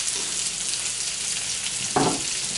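Onions fry in a pan with a loud, dense, continuous sizzle close up, and near the end a brief burst of stirring or tossing makes the crackle swell for a moment.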